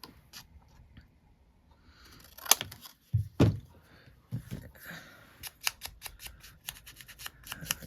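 Scissors snip through craft paper at close range, a few sharp crunching cuts around the middle followed by a run of quick, light snips; no talking.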